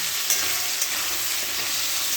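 Vegetables for shukto, such as potato and papaya, fry in hot oil in a pan, giving a loud, steady sizzle. A couple of faint clicks rise briefly above it, and no one speaks.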